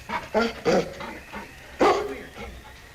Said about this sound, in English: All right, King, on you huskies